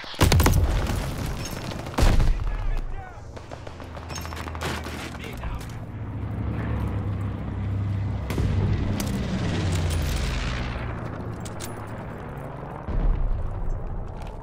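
A grenade explodes in a shooter game, a loud booming blast early on with rumbling aftermath, scattered gunfire and later another heavy hit, with in-game voices calling out around it.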